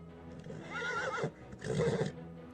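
A horse gives two loud, close whinnies in quick succession, the first rising and wavering, the second shorter and harsher, with no talk over them.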